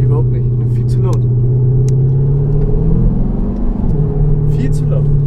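Interior of a Mercedes W213 E350d with active sound, the diesel engine droning loud and steady through a downshift, the pitch sliding and settling, with talk faintly over it.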